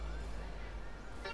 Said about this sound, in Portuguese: Buzina.